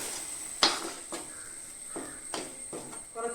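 Ground masala paste for an egg ghee roast is stirred in hot oil in a pan. A spoon scrapes and clinks against the metal in irregular strokes over a steady, quiet sizzle.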